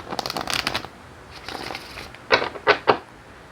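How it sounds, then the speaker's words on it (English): Tarot cards riffle and flutter for about a second, then after a pause a few sharp snaps and taps as the deck is squared. "One more shuffle and then we can cut the cards"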